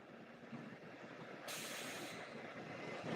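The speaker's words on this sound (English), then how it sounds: "The tram's going by." A tram passes at a distance outdoors, a steady rumbling roll with a burst of airy hiss partway through, like a brake release, continuous and moderately faint with no talking.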